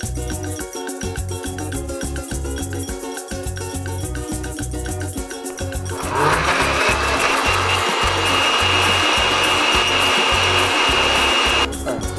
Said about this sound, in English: So he's cutting it fresh, he's beating it up, he's fluffing.